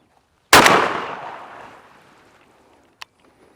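A Mossberg 940 SPX shotgun fires a single loud blast of double-aught buckshot outdoors, followed by a long fading echo and a faint click a few seconds later.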